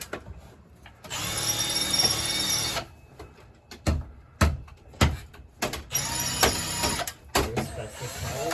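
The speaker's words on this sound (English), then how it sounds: "Daniel's drilling a pilot hole to go outside." A power drill whines in several bursts while drilling a pilot hole through a house wall to the outside, one long run followed by shorter stop-start pulls, with clunks and knocks between them, close by.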